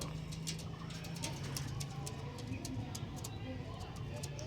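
Soft, repeated cooing of a male pigeon in low murmuring phrases, with faint clicks and background chatter running throughout.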